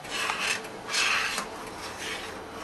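A spoon scrapes and stirs tuna fish stew along the bottom of a pot in a few repeated rasping sweeps, close and moderately loud, with no talking.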